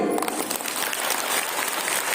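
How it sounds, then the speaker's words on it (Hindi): A church congregation clapping loudly together, a dense continuous wash of hand claps filling the whole moment without any talk. "जोर से अपने आप में ताली बजाइए"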